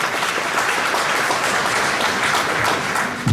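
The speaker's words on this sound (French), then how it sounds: "vais l'applaudir" Steady audience applause fills a large rally gathering at the Dôme de Pontoise, a broad even wash of clapping from a crowd that holds at one level throughout.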